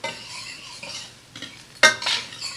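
Onions cook in a pan, with a spatula scraping and stirring over a faint sizzle, close and fairly quiet, ending in a sharper clink.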